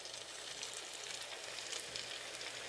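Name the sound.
egg rolls frying in hot oil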